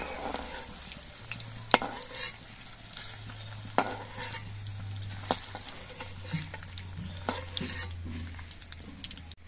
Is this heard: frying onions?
yes